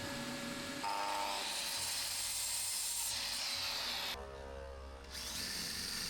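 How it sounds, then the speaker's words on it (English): Power drill pre-drilling holes in a wooden base, a steady high whine running for several seconds, a brief drop in pitch and level near the end before the motor picks back up. "And just pre-drilling all the holes for that to go onto the base of this."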